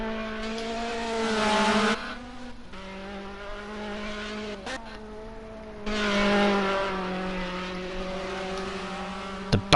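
A Cosworth race car engine revving hard, loud rising and falling harmonic howls in bursts with a brief lull between them, no talk.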